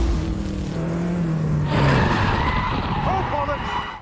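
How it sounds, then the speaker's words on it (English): An F1 race car skids as its driver loses control and crashes into a tyre barrier, loud tyre and engine roar surging midway through, with a voice speaking over it. "He eventually lost control and crashed into a tyre barrier."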